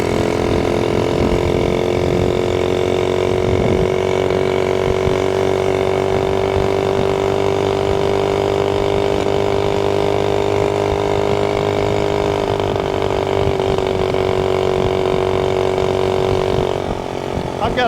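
A Honda Z50A minibike's small engine idling close by in a steady, unbroken drone that dips slightly near the end, with voices and talk over it.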